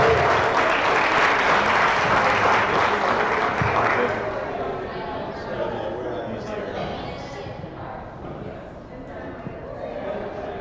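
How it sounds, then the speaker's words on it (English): An audience at a pitch event in Seneca One gives a round of applause to welcome a presenter. The dense clapping is loud at first, then thins and tapers off over several seconds. "please give me a round of applause as I welcome Jimmy Shabbat"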